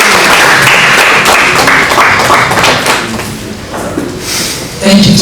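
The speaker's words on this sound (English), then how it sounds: "Please a round of applause." An audience breaks into loud, sustained clapping and cheering at a live event, filling the room for several seconds.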